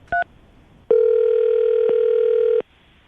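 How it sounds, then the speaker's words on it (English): A telephone handset on a call: a brief two-tone beep, a short pause, then a loud steady ringback tone held for about two seconds before cutting off, with no talking. "Okay, so I'm going to dial the phone number right now"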